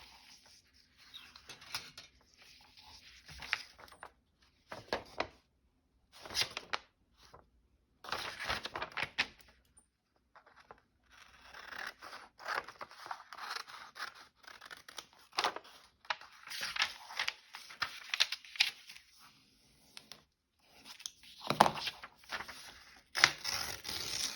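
Scissors cutting out paper for a craft journal, with irregular snipping, crinkling and rustling bursts separated by quiet pauses, close and fairly faint, with no talking.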